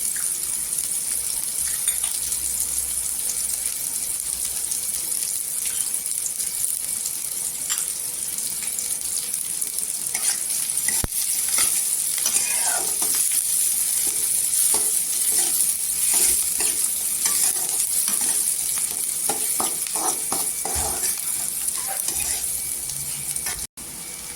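Onions frying in oil in a pan with a pinch of asafoetida, stirred now and then for potato curry; a steady close sizzle with occasional scraping strokes of the spoon, no talking.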